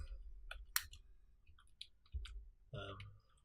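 Computer keyboard keys tapped while entering a command in a software console, a handful of crisp, irregular clicks close by over a low steady hum, with no talking.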